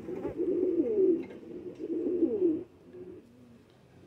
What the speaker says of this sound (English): So he's a black diamond homing pigeon mixed with the Spanish Pouter.